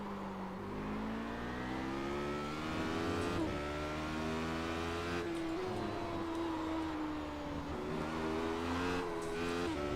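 Race car engine in the iRacing sim, loud and continuous throughout, with rising and falling revs as the throttle is worked hard, plus a brief tire squeal.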